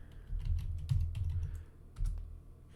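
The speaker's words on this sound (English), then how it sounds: "Let's type it in." Computer keyboard being typed on at close range, a short burst of quick clicking keystrokes followed by a pause and one last key press.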